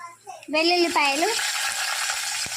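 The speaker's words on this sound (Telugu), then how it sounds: "స్టవ్ పై కడాయి పెట్టుకొని ఆయిల్ పోసుకున్నాను. ఇప్పుడు దీంట్లో ఇవి పోపు దినుసులు వేసుకుందాం" Mustard seeds, cumin and peanuts hit hot oil in a kadai on a stove, setting off a steady bright sizzle after a short voiced sound at the start.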